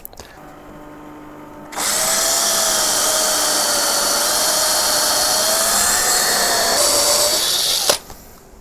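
A power drill runs continuously for about six seconds, boring a 3.3 mm tap hole for an M4 thread during fitting of a lathe DRO to a Warco WM-180, with a steady high whine close by and no speech.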